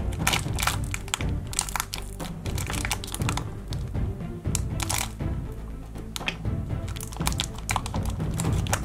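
Hands dig and rummage through blue fish tank gravel in a Treasure X Kings Gold Tomb toy playset: dense, continuous crunching and clattering of small stones, close and fairly loud, no speech.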